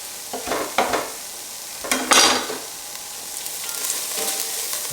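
Onions sweating and sizzling in a pot as the base for split pea soup with ham, a steady hiss with brief louder bursts of stirring and frying.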